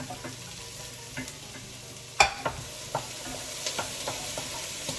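Carrots and red pepper tossed into a bean dish sizzle in a pan, with a sharp clatter near the middle and scattered spoon clicks and scrapes over a soft, steady fry, no talk.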